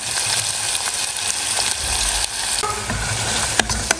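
Loud continuous sizzling of onions frying in hot oil, with occasional stirring and scraping in the pan, close up.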